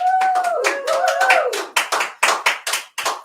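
A tiny studio audience of a few people on a podcast set claps in sparse, uneven bursts, close and distinct, with someone tapping a foot and a faint sliding tone at the start.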